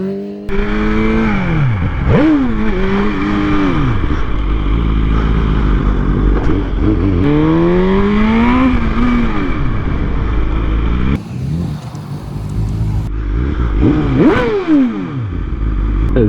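A BMW M1000RR superbike revs hard during wheelies, its engine note rising and falling in repeated loud sweeps with gear changes, close by and continuous, briefly dipping before climbing again.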